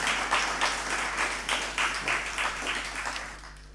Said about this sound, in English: I think another round of applause for Amanda for 2 fantastic years.